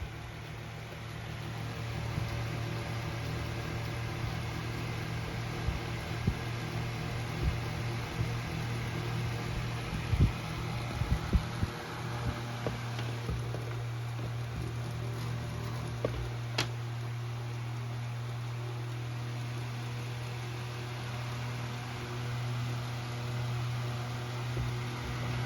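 A vintage 1988 Menards desk fan runs on low speed with a quiet, steady motor hum and soft airy whir, with faint ticks and light knocks here and there.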